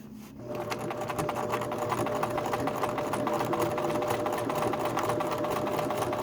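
A sewing machine stitches embroidery in a fast, steady mechanical chatter. It starts up after a brief quiet moment and runs continuously at close range with no talking.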